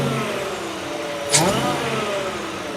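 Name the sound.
supercharged Ford truck engine revving with Borla exhaust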